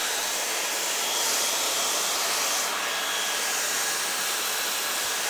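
A Dyson Supersonic hair dryer blows steadily on curly hair, a loud, continuous broadband airflow whoosh that holds level throughout with only slight shifts in intensity.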